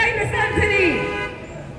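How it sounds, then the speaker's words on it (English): Car horns toot amid a street rally in New York City, a few short honks blending with crowd noise and voices in the background. "You hear people honking"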